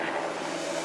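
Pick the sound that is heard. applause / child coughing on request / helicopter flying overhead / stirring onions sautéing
helicopter flying overhead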